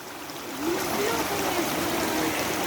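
A stream flows steadily with a soft continuous rushing and trickling wash, moderately close, while a voice speaks faintly over the water.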